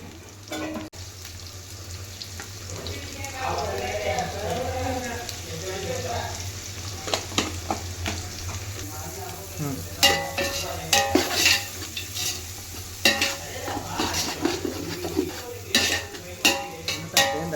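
Chicken curry frying in a pan and being stirred, a steady sizzle with scraping and clinks of a utensil against the pot, growing busier toward the end; no talk.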